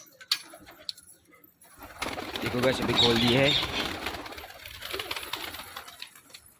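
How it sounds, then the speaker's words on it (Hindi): Pigeons coo softly from inside a home loft as its door is opened, and a few wing flaps and rustles follow. Someone talks over the birds. "चलो अभी खोल देते हैं कबूतरों को।"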